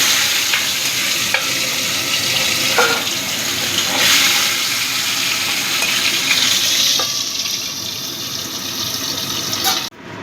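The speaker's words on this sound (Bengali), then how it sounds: "আর দুটো মাছটা আমি একইভাবে ভেজে নেব" Koi fish fry in hot oil in a kadai, a steady close sizzle and crackle lasting throughout with occasional stirring clatter, stopping abruptly near the end.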